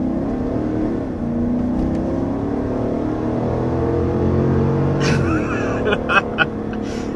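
Large 2022 Cadillac Escalade or GMC Yukon Denali SUV accelerating, a steady rising engine drone heard from the cabin that holds strong throughout, with a few sharp clicks and knocks near the end.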